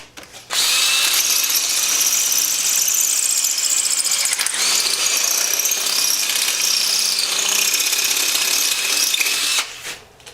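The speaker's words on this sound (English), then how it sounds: "So let's get the hole drilled first." A power drill bores a hole in a tank bracket on a Honda Sabre cafe racer project, a loud, continuous high whine with grinding squeal lasting about nine seconds before stopping.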